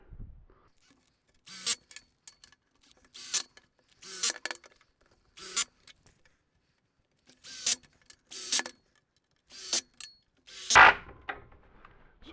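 Screws are driven into pocket holes while a cabinet is assembled, each drive a short whirring burst from a nearby screwdriver, with about a dozen bursts separated by quiet gaps.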